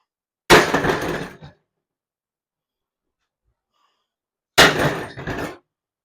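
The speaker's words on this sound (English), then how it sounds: "Just smack it with a sledgehammer" A sledgehammer striking an automotive tool bought online, two loud sharp impacts a few seconds apart, each with a brief rattling crash and ringing tail, followed by silence.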